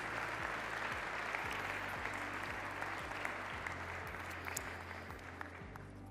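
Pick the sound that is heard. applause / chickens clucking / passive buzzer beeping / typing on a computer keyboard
applause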